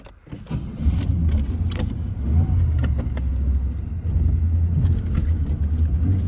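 A stalled truck on a curve being cranked to restart: a continuous low engine rumble and chug with rattling and jangling over it, loud and close, no clear catch.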